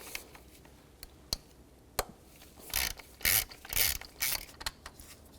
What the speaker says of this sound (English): Take a 10mm socket, remove the bolt.